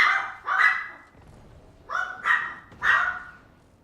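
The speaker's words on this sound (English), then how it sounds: "Forgive the barking." A dog barks five times nearby, two quick barks, a pause, then three more in close succession.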